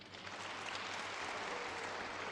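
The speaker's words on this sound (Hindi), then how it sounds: "उसके लिए ताली बजा देंगे।" Sustained audience applause at a spiritual festival gathering in India, a dense, steady clatter of many hands held at even loudness from start to finish.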